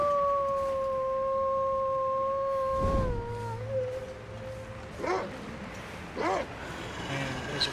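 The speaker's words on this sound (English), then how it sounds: "I heard the wolf howling in the immediate direction I'm going" A wolf howls in the snowy wilderness of the survival game The Long Dark, a long sustained wavering call that slides and fades, followed by a few shorter rising yips and howl fragments at a distance over steady wind.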